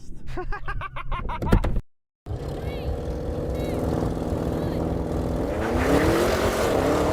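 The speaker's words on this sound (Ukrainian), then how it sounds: "машина зі старту пішла в юз." Tesla Model 3 and Audi RS7 launching side by side in a drag race start, with a steady loud engine and motor roar and tire noise building as the cars pull away, after a brief burst of talk and a short gap.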